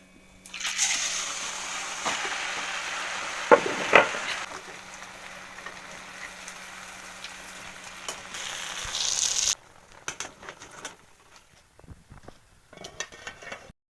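Haalu garige, a crispy Kannada milk-dough snack, sizzling in hot oil with a steady broadband hiss for about nine seconds and a few utensil clinks, then cutting off into quieter kitchen handling.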